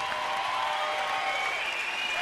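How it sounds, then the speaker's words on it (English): A crowd at a Wayne Parr versus Brad Riddell fight gives a standing ovation, a dense, sustained wash of clapping that holds steady and loud throughout. "standing ovation from the crowd for Brad Riddell."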